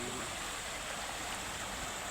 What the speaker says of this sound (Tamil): தண்ணி அதை விட கொஞ்சம் ஸ்லோவாக தான் போகுது